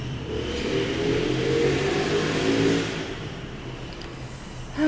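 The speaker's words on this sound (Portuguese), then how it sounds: "Ai, eu adoro moto." A motorcycle engine revs steadily at mid pitch, holding a loud, sustained drone for about three seconds before easing back slightly, with no talk over it.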